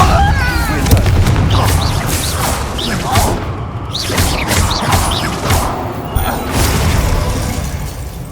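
Spell-casting combat in Hogwarts Legacy produces repeated booming blasts and crashing magical impacts in dense rapid succession, loud and close, with a voice shouting spell names over the effects.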